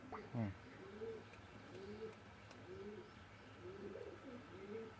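Pakistani Teddy pigeons give soft, repeated rolling coos at an even pace, close and quiet, with faint clicks and light speech-like sounds in the background.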